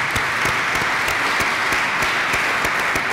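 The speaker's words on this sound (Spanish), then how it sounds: "ahora aplausos por vosotros por haber venido, por haber estado siguiendo esta presentación." Steady audience applause at a finance talk about how a professional athlete invests, dense and continuous throughout with no voices over it.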